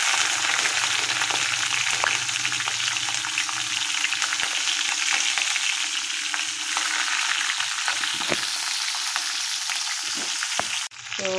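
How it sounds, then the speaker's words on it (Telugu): Cumin seeds and green chillies frying in hot oil, a loud, dense, continuous sizzle close up with scattered stirring clicks and a sharp spatter near the end, no talk. "జీలకర్ర కొంచెం ఫ్రై అయిన తర్వాత మనం వేసుకుంటున్నాం పచ్చిమిర్చి"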